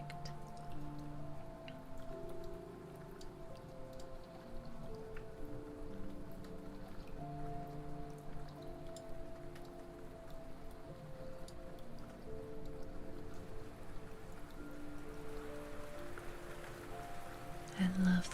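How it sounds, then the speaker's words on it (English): Soft, steady rain patters on a surface, heard close and quiet through a binaural 3Dio microphone, with faint drips over a background of low sustained tones. "I love the sound of rain."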